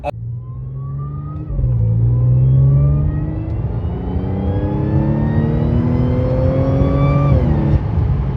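A tuned Audi S4 B8.5 with a pulley upgrade pulls hard, its engine droning steadily and rising in pitch through a gear change, loud and close from inside the car.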